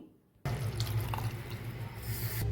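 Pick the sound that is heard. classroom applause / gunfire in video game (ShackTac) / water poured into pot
water poured into pot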